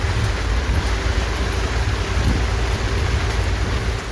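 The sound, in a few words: heavy rain during a storm in Maasai Mara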